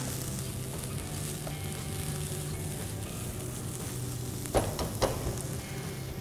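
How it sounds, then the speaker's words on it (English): Roasted crushed peanuts, red chilli powder, turmeric powder and salt get stirred in a hot pan, giving a steady close sizzle with a few sharper scrapes of the spoon near the end and no talking. "Give it a mix."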